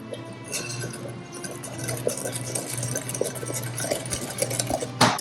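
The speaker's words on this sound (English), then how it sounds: "So we have flour into our mixture, and we're just going to mix that up." Batter for egg-free vegan fudge brownies is stirred with flour, giving a steady close scraping and mixing sound with light clinks of a utensil against the bowl, no talk.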